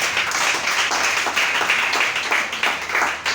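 A church congregation applauds during a sermon, steady brisk clapping from many hands filling the room continuously, with no voice heard over it.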